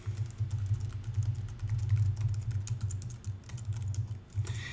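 Steady, fast typing on a computer keyboard as a URL is entered, a dense run of close clicking keystrokes with a brief pause near the end and no talk.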